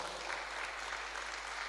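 Steady applause from a crowd at a secondary schools awards event, a dense wash of clapping heard at a moderate distance, continuous for the whole short stretch.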